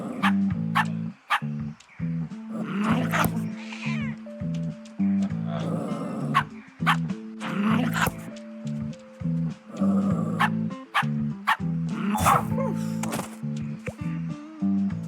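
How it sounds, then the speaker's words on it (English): A dog barks repeatedly in a video game, short sharp barks coming in uneven bursts throughout, loud and fairly close, with a low hum underneath. "Why is there a dog?"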